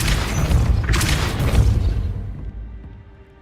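A Depulso force spell cast in Hogwarts Legacy lands as a loud, deep booming impact with a crashing burst, rumbling for about two seconds before fading into quieter game ambience.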